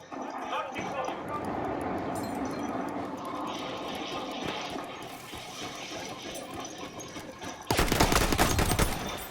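Rapid gunfire in the video game Battlefield 1 crackles steadily in the background while someone talks over it, then a louder, denser burst of shots erupts near the end.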